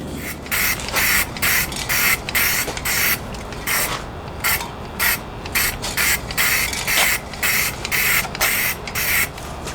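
Paint sprays in short repeated bursts onto a sanded hitch basket for a Jeep TJ, a steady aerosol hiss broken by brief pauses, close and fairly loud with no talking.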